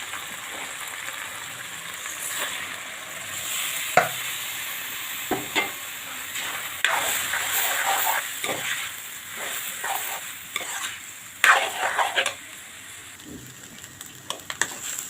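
Rice and spice paste for vegetable pulao, stir-fried together in a pan: a steady sizzling hiss broken by repeated scraping and stirring knocks from a spatula, close and continuous.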